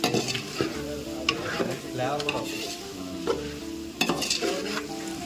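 Chicken curry, made with two kilograms of chicken, sizzles steadily in a pan as curry leaves are stirred in. Loud, close frying hiss runs throughout, with repeated scraping stir strokes and occasional metallic clinks of the spoon against the pot.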